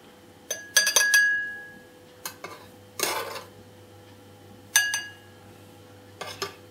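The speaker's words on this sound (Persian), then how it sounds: "قسمت فومش رو با قاشق میریزیم توی لیوان" A spoon clinks and taps against a glass several times while spooning milk foam into it for a latte macchiato, with soft scraping between the light metallic chimes, close and otherwise quiet.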